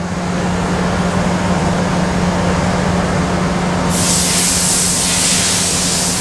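An O.D. grinder runs with a loud, steady machine drone and a constant low hum, and a bright hissing grind joins partway through and continues to the end.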